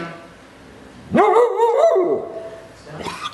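A puppy that needs to go out to pee whines with one drawn-out, wavering whimper that rises and falls. A fainter yelp follows, close by in a quiet room.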